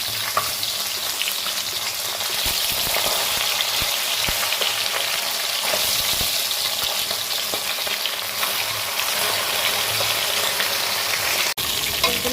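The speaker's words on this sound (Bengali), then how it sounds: "দেখো আমার মাছ ভাজা মোটামুটি হয়ে যাচ্ছে, এখন উল্টে দিচ্ছি।" Fish sizzles steadily in hot oil in a pan while a fish curry with cauliflower is being cooked, a continuous crackling fry with occasional scrapes and stirring as the pieces are turned, with no talking.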